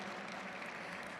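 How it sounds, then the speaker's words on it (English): Convention audience applauding after an interfaith session talk, a steady, dense wash of clapping that is faint and distant and lasts only a moment. "Please give Lana another round of applause on her story and message in the interfaith work."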